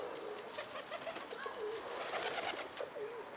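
Soft cooing of a pigeon repeats a few times against a steady hiss of background noise, faint and somewhat distant.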